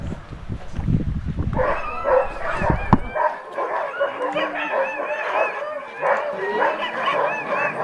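Alaskan sled dogs howl, yip and whimper in an excited chorus, a loud continuous clamour of overlapping high cries after a burst of low noise and rustling at the start.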